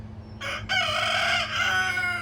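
A rooster crows once near a flock of backyard chickens, a loud, close, stretched call with a brief break near the start, over a low steady hum.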